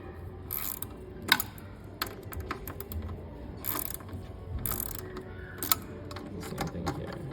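Ratcheting clicks and metallic tool noises from a socket wrench on a 1/2 extension loosening a drive belt bolt on a Taylor 152, close and irregular, with occasional sharper clacks and no talking.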